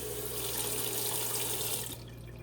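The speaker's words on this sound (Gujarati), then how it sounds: "હવે વાસણ ઘસી ધોઈ દઈશું આપણે એમાંથી" Steady tap water pours into a kitchen sink while dishes are washed, a constant broadband rush that drops off abruptly near the end, leaving a quieter hiss.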